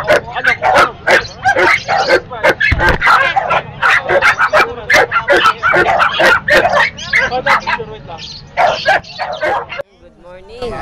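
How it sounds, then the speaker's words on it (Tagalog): Several Pomeranian dogs yap and bark in rapid, overlapping bursts at a busy outdoor pet market in Bocaue, Bulacan, loud and close, with people talking in the background throughout. "Mayroon na tayong Pomeranian ngayon."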